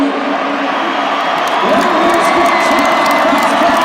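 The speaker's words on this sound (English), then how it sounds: "He is out and getting huge applause, as he should." A large arena crowd at a Monster Jam truck show in Syracuse roars with sustained cheering, whoops and applause, loud and continuous throughout.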